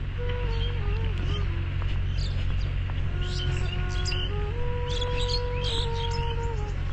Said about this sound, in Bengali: সকালবেলার পাখির ডাক শুনতে কিন্তু অনেক ভালো লাগে।